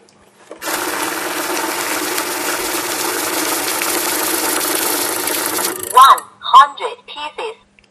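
A banknote counting machine riffles through a stack of bills with a loud, steady mechanical whir for about five seconds, then stops and gives short electronic voice announcements.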